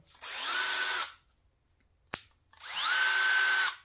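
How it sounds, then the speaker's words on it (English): A Snap-on CDR861 two-speed cordless brushless drill whirs twice, each burst about a second long with a rising then steady whine, separated by a sharp click. "The Snap-on CDR 861. It's your brushless drill."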